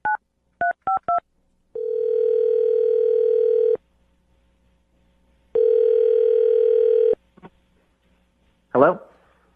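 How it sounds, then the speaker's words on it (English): Telephone call being placed: a few quick DTMF keypad beeps, then two long steady ringback tones separated by silence, followed by a brief click and a short burst of a voice answering. "So we'll dial the phone number right now and see if we can get him on the phone"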